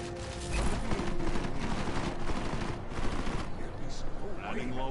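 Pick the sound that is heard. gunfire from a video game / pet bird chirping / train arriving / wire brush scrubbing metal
gunfire from a video game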